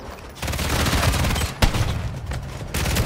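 Rapid gunfire crackles through a Call of Duty MW3 search-and-destroy match played with snipers, dense loud volleys of shots with a sharp blast partway through and no talking.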